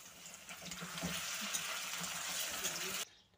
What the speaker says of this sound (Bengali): তো প্রথমে আমি পনিরগুলো ভেজে নেব।